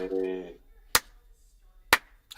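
Two slow, sharp claps spaced about a second apart, close by, following a brief spoken word.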